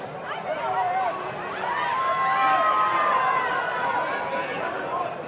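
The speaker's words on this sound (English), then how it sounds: "great support for Serbia in the crowd, letting themselves be heard, waving all of the national flags" Serbian fans in a stadium crowd cheer and shout during a WMF World Cup minifootball match against Singapore, a loud sustained roar with rising chants that swells in the middle and holds under the general din.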